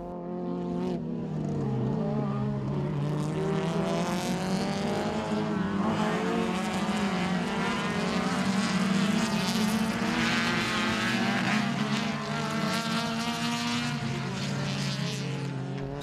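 Racing cars, led by a Renault Clio and including an Opel Kadett, roar past on the Dolna Mitropolia circuit during a race, a loud, continuous engine drone with shifting pitch as several cars pass close by.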